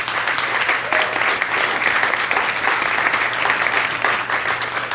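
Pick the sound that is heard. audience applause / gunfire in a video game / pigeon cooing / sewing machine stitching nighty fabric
audience applause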